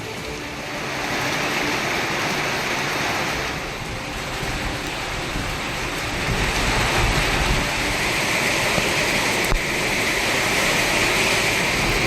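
Summer rain falling around Alangulam in Tenkasi district, a steady broadband hiss of rainfall that continues without a break throughout, fairly loud and close, with no voices.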